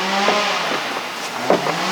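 A chainsaw or mower runs somewhere nearby outdoors, giving a steady buzzing drone with a couple of brief surges in pitch and loudness.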